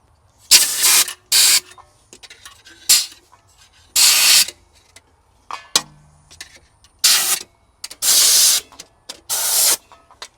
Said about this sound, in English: next up will be a bit of compressed air